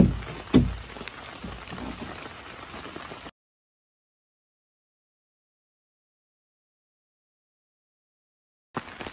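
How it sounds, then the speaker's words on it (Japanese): Heavy rain pours steadily during an approaching typhoon (Typhoon No. 14) at an outdoor site where a dugout canoe is being hewn, a loud broadband hiss lasting about three seconds, then dead silence before the rain briefly returns at the end. "台風14号がね接近している中で雨の中の作業となりましたけども"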